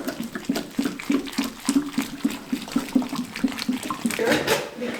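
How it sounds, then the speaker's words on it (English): Water is poured into a wintersowing container, a close splashing, trickling pour with uneven gurgling pulses across several seconds, with faint voices nearby. "we're just going to pour some water in it"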